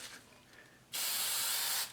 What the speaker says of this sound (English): Spray a light coat of Easy Tack over this.